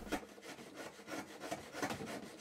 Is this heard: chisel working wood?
yes